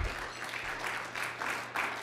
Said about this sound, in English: I'm actually glad to hear some claps in the room for this